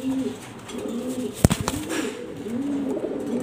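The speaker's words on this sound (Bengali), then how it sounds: "নটটা পাগলা অনেক, খুব সুন্দর ডাকে" A male pigeon coos in low, rolling, repeated calls close by. A short sharp knock or flutter lands partway through, and faint background noise sits underneath.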